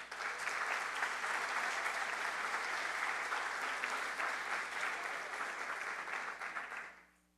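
At a municipal council inauguration session in Jacareí, the audience applauds the council president with a full, sustained round of clapping that fades out near the end.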